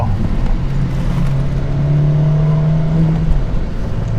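Honda Civic Type R engine with a swapped rear sway bar, a tenth-generation car, revs hard under heavy throttle through a corner, its droning cabin note climbing steadily before easing off, loud and close without speech.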